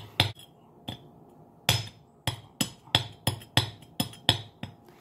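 Sharp tapping strikes on a hard ceramic pot, knocking to start a drainage hole before drilling, about a dozen close knocks, starting sparse then falling into a quicker, steady rhythm.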